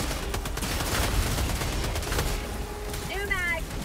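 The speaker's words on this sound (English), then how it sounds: "I know you're getting shot at." Gunfire in the video game Helldivers 2 rattles as a dense, continuous fusillade of shots, with a rising electronic sweep near the end and voices talking over it.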